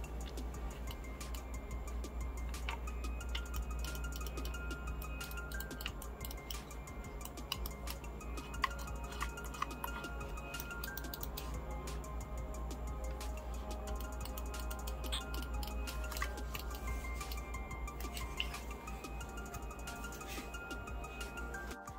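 Buttons and dials on a Tourbox Neo drawing controller click and tick in a quiet room, with many small, close, irregular clicks running steadily throughout and no one speaking.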